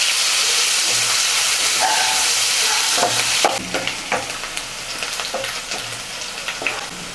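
A large sliced onion sizzles in hot oil for paneer fried rice. Steady frying hiss runs throughout, and after a few seconds sharper scraping and clattering come in as the onions are stirred.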